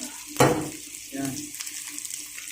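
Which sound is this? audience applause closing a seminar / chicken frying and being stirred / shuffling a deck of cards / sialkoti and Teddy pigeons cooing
chicken frying and being stirred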